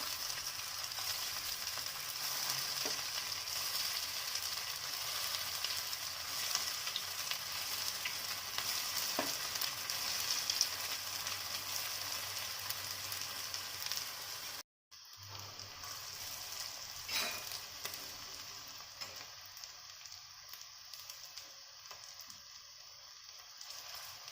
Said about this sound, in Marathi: तेल मी गरम करून घेतलेलं आहे आणि आता मी त्यामध्ये वडे टाकते आहे